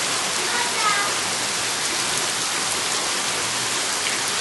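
Heavy desert thunderstorm rain pours down steadily as a loud, dense, continuous hiss close by, with a voice speaking briefly over the downpour.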